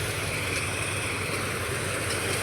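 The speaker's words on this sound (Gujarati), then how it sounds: "અહીં ટ્રેક્ટર આવી ગયું છે" A tractor engine idles on a farm during the wheat harvest, a steady, loud low rumble that runs throughout with no talk.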